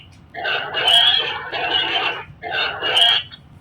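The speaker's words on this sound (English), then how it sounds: "pig" A pig oinks in three rough, grunting bursts, fairly close and loud, with short gaps between them.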